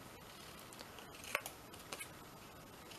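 A few quiet snips of scissors cutting the corner of a sheet of paper for a daisy journal, with short crisp clicks against a soft, near-silent background.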